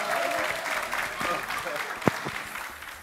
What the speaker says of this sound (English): Mother clap, mother clap!